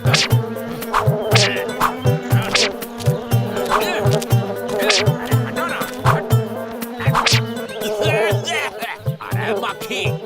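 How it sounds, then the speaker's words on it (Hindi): A cartoon housefly buzzes loudly and continuously around milk, its whining drone rising and falling as it circles close by, layered over background music and voices. "अरे मक्खी, हमारा दूध से दूर रहो।"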